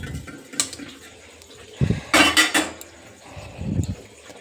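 Pots and utensils clatter in a kitchen while tea is being made, with a few scattered clinks and scrapes, some brief and some clustered, against a quiet background.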